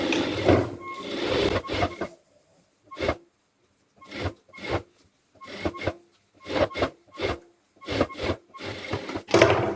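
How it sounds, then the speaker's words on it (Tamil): Domestic sewing machine running a double stitch along a blouse seam, stopping and starting in short bursts of rapid whirring with brief silent pauses between, close and clear, no talk. "திரும்பவும் வந்து நம்ம டபுள் ஸ்டிச் போட்டுக்கலாம்."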